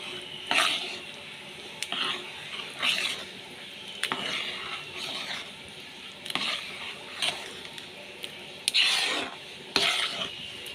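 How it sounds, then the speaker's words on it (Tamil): Moong dal and raw rice being stirred into rava pongal in a pot, soft scraping and squishing strokes of a spoon coming in irregular bursts, fairly quiet with no talking. "அந்த பைத்தம்பருப்பும் பச்சரிசியும் நல்லா வந்து மிக்ஸ் ஆகிற மாதிரி நம்ம கலரிடலாம்"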